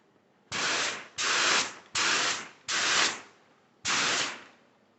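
A spray gun set to higher pressure lays clear coat on a 1985 BMW 635 CSI in five sustained hissing bursts, each about half a second long, close and loud, with short silent gaps and no talking.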